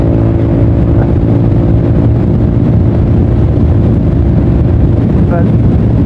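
Riding a Honda PCX scooter on the road brings a loud, constant engine drone mixed with heavy wind buffeting against the microphone, with no break for the whole stretch.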